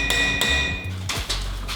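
Metal struck on a small anvil that arrived by mail, several sharp ringing hammer hits close by, the early strikes leaving a sustained metallic ring and later ones shorter and duller.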